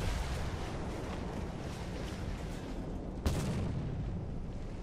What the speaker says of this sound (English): That might have been artillery that hit me.